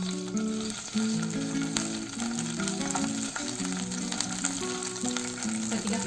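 Ginger garlic paste frying in olive oil in a pan makes a steady, close crackling sizzle with a few stirring taps. Melodic background music plays throughout, and no one speaks.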